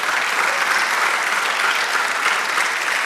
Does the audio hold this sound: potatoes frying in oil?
no